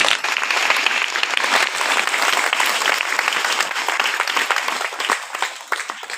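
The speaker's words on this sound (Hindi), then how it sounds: "ताली बजाओ।" Sustained applause from a church audience during a Hindi sermon, dense, steady clapping that fills the whole stretch, loud and close, easing slightly near the end.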